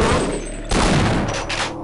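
Rapid gunfire crackles in the co-op video game Half-Life: Decay, loud bursts layered over game noise for under two seconds.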